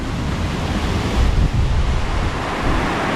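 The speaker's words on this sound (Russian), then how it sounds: "Вот эта волна огромная была здесь." Huge storm waves crash and roar at sea in Sudak, Crimea, under a wild wind, making a loud, continuous surf rumble with heavy wind buffeting.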